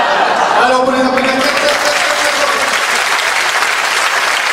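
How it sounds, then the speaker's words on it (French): An audience applauds at a karate demonstration, loud and close, with a voice briefly calling out near the start before the dense clapping carries on steadily. "Alors, pour les applaudissements."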